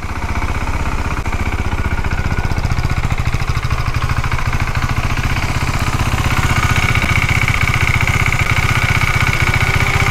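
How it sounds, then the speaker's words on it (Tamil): A KTM Duke 390 with its radiator fan switched on, heard as a loud, steady whir blended with the continuous low hum of the idling single-cylinder engine, close and unbroken for the whole stretch. "பக்காவாக வந்து ரேடியேட்டர் வந்து ஆன் ஆகிடுச்சு. சவுண்டு கேட்குதுங்களா?"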